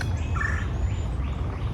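Birds sing outdoors in nature, with several faint, thin chirps and short trilled phrases over a soft, steady low background hum.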